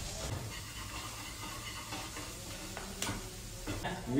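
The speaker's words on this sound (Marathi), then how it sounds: "बनवतो जिताळा तवा फ्राय" Jitada fish frying on a tava gives a low steady sizzle and hiss, with faint stirring and clatter, recorded close and fairly quiet.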